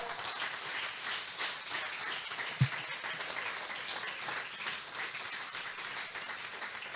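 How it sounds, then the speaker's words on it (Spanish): Church congregation applauding the Lord Jesus Christ, a steady wash of many hands clapping, somewhat distant and soft, with one louder thump partway through. "¿Por qué no le da un aplauso al Señor Jesucristo?"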